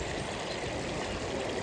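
A small stream flows into a river, giving a steady, close, broadband rush of water throughout with no voices.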